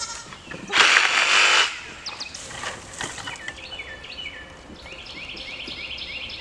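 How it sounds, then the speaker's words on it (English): Baby goats bleating near a greenhouse, one loud bleat up close followed by quieter bleats and chirpy calls, with rustling in the background. "You want to go play with the baby goats?"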